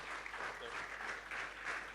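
An audience at an International Women's Day celebration applauds, a continuous dense patter of hand claps lasting throughout, moderately distant and even.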